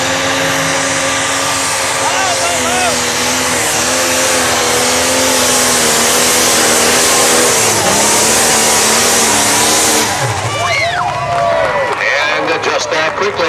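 Red Avenger pulling tractor's engine roars loud and sustained through a tractor pull run, harmonic whine rising and holding before cutting off near the end, with an announcer's voice over the crowd noise.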